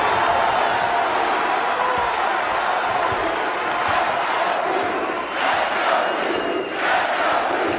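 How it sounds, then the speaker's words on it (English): A packed Cameron Indoor Stadium crowd roars at a Duke Blue Devils versus Clemson Tigers college basketball game, a loud continuous wall of cheering and yelling with a few surging peaks. "the Cameron crowd that was so vital to the Blue Devils' momentum on Thursday night now back at full throat"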